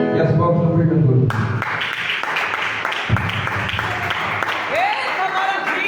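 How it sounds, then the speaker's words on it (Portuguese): A church congregation applauding the preacher, a dense wash of clapping that starts after a brief stretch of loud voices and carries on steadily, with people talking and calling out over it. "E as palmas do pregador."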